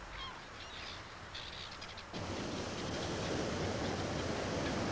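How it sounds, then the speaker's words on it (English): Seabirds calling from nesting cliffs in Shetland, faint scattered cries and honks early on, then largely swallowed by a steady broad wash of wind or surf. "countless birds nesting in the cliffs"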